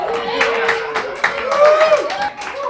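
Audience at a live comedy show clapping and cheering, with brisk, loud handclaps and mixed whoops. Voices rise over the clapping.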